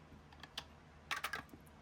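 Small dice clatter briefly during a savings challenge board game, a few light taps followed by a quick cluster of sharp clicks as they tumble and settle, faint and close.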